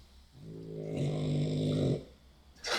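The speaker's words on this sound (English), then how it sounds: "I don't know whether you can pick up the little doggy snoring in the back" A small dog snoring close by, one long drawn-out rasping snore with a buzzing, rattling tone that swells and then stops, followed by a short breathy sound.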